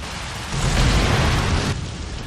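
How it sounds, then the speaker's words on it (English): A loud explosion in the firefighting video game Emergency 4 erupts as a broad, sustained roaring blast that swells after half a second and then rumbles on without speech. "Loud explosion."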